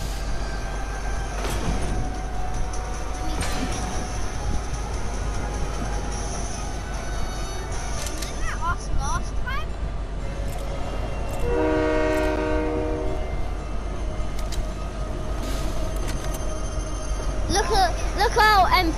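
A train rolls past in the video game Fortnite, with a low continuous rumble, several horn blasts and clattering wheels, while players talk excitedly over the game sound throughout.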